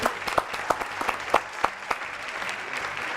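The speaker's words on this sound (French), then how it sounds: "Applaudissements pour David Tooze, franco-britannique." Studio audience applause for a guest on a French talk show, a brief burst of clapping with a few sharp, distinct claps standing out over a softer background that thins toward the end.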